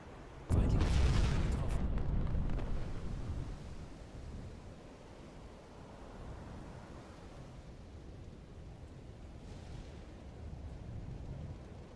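A torpedo strikes a ship in the Uboat submarine game: a heavy, muffled boom bursts out, then fades into a long, low rumbling wash.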